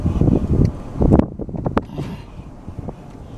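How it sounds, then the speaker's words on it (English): Wind blowing by a lake, buffeting the microphone in loud gusty rumbles at the start that ease into a quieter, uneven rustle. "Good wind going on today."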